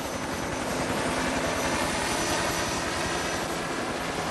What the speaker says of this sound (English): The helicopter will then come in, hover, they'll take the casualty down and put them into the chopper.